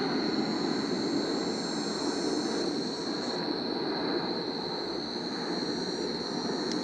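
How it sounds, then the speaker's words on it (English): Airplanes passing overhead near O'Hare airport, heard from Mallard Lake as a steady, continuous broadband roar that fills the whole stretch without pause or speech. "there's a lot of planes flying overhead from O'Hare"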